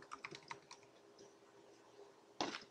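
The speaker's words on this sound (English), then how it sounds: "You can start typing." A computer keyboard is typed on in short, light clicking bursts while text is entered in design software, close and fairly quiet, with a pause and then a louder final cluster of keystrokes.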